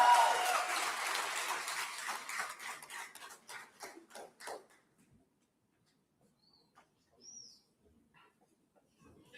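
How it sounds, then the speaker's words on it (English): An award ceremony audience claps in sustained applause that thins into scattered claps and fades to near silence, followed by faint bird chirps. "Another round of applause."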